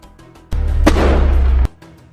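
Gunfire from a Hamas fighter aimed at IDF soldiers near an Israeli tank in Gaza: one sharp crack inside a loud, sustained blast of roughly a second, with no voices.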